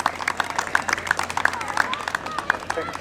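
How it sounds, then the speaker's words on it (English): A tennis crowd at the Ojai tournament applauds the players, steady clapping from many hands with voices and chatter mixed in throughout. "How about another nice round of applause for them?"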